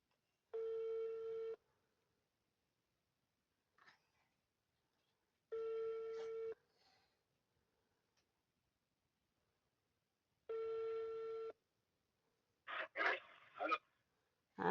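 A phone ringback tone sounds as three evenly spaced steady beeps about a second long, with quiet gaps between them, followed by a few brief louder clatters near the end.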